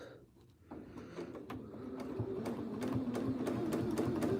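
A sewing machine runs steadily for free motion quilting, its needle tapping in a fast, even rhythm that picks up and grows louder after a brief pause near the start.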